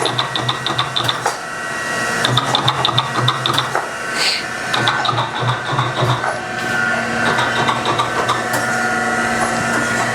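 A 12 by 24 inch Chevalier precision surface grinder sparking out, a loud steady mechanical drone with a repeating rhythmic whir and faint high grinding hiss from the wheel on the workpiece, continuous throughout.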